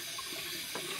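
Water running steadily from a 1950s faucet and overflowing, a continuous close hiss and splash for a moment with no talk.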